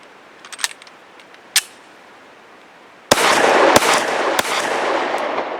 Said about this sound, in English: This is a low recoil, very short, oddly shaped bullet, only 100 grain.